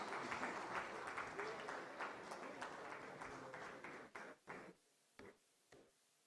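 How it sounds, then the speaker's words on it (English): Applause from an audience at a startup summit fills the first seconds, then thins out into a few scattered, isolated claps before fading. "Let's give them a round of applause."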